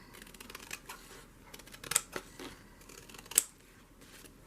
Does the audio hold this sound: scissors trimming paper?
yes